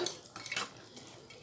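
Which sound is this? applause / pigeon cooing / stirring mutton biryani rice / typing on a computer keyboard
stirring mutton biryani rice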